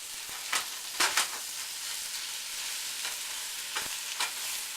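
Eggs cooking in a pan with cilantro, tomatoes and chopped avocado, a steady sizzle broken by several sharp scraping strokes of stirring, close and unaccompanied by talk.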